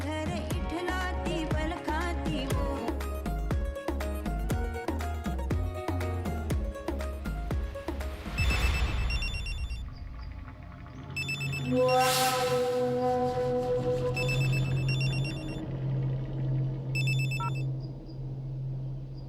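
A telephone rings with a repeated electronic ringtone, its tones sounding in regular bursts over a background music score that plays loudly before the ringing takes over.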